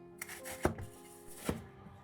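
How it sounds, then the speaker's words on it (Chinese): A kitchen knife cuts bitter melon diagonally into thin slices on a cutting board, producing two crisp, close thuds about a second apart with faint scraping between them. "最後我們斜45度切成均勻的薄片。"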